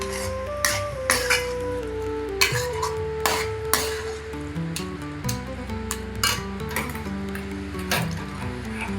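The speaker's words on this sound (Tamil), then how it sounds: "இது கொஞ்ச நேரம் பரட்டி விட்டுடலாம்" A metal spoon scrapes and clinks against a pan as chili spice powder is stirred in for sambar rice, close and steady, with tapping hits and faint background music.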